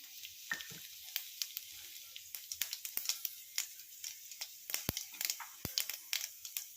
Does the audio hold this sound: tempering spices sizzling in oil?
yes